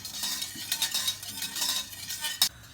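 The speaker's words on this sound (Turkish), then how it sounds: "tüm malzemelerin karışmasını, şekerin erimesini sağlayana kadar e, karıştırıyorum" A spoon stirs a milk and sugar mixture in a pot for homemade ice cream, giving close, steady scraping swirls with light metallic clinks and a sharper knock near the end, and no talk.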